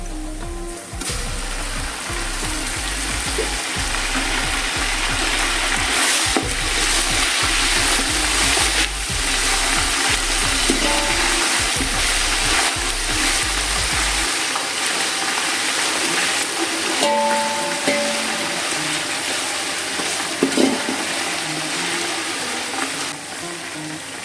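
Onions sizzle with ginger garlic paste in a pot for mutton biryani, a continuous close frying hiss with occasional stirring, a low steady hum underneath for the first half.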